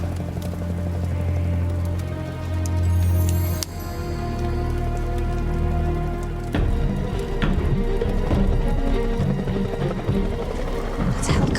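A waterfall in remote wilderness, a continuous broadband roar that swells and shifts midway, running steadily from start to finish with no talking.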